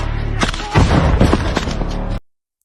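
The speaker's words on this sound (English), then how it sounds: "Ukrainian forces immediately spring into action and begin returning fire" Ukrainian forces returning fire in a combat zone, a loud close burst of heavy booming gunfire with dense rolling thuds over about two seconds, then cut off abruptly to silence.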